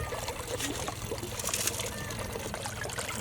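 Water washing over the rim of a gold pan tilted at a steep angle, a steady close trickling and pouring with broadband splashing texture, continuous throughout with a low hum underneath.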